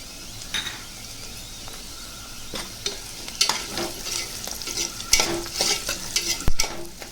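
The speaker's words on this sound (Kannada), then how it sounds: "ನೋಡಿ, ಈರುಳ್ಳಿ ಚೆನ್ನಾಗಿ ಫ್ರೈ ಆಗಿದೆ. ಈಗ ಇದಕ್ಕೆ ನಾನು ಕ್ಯಾರೆಟ್ ಸೇರಿಸ್ಕೊತಾ ಇದ್ದೀನಿ." Onions and carrot frying in a pan for paneer peas pulao: a steady sizzle runs throughout, with scraping stirs and occasional light clinks of a utensil against the pan, close and clear with no talking.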